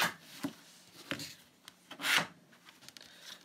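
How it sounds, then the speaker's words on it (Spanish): A scraper drawn across a metal stamping plate to clear off ink, several short rasping strokes close by, one longer and louder sweep in the middle, with no talking. "giro la placa y raspo de esta manera"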